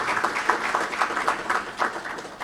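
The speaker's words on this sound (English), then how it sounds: "let's give another round of applause to the Honorable Governor." A crowd applauding steadily at a central bank capital market launch event in The Gambia, a dense wash of clapping from many hands with slight swells, no voices over it.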